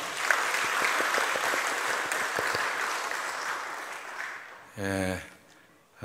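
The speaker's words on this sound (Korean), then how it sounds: "우리 안수 집사님 통해서 영광 받으신 하나님께 박수 영광 돌리겠습니다" Congregation at a Korean Wednesday evening church service gives warm, full applause for several seconds, then it fades and a single voice speaks briefly.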